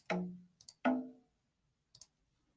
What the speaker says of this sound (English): Conga drums.